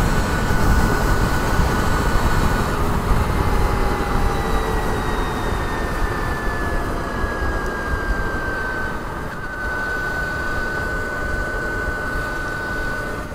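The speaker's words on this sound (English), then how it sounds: "First time I ever really got on the throttle hard with this bike since I got it running." A Brammo electric motorcycle at full throttle under hard acceleration, a steady loud whine with a tone that climbs in pitch over a broad rushing roar of wind and road noise, with no voices.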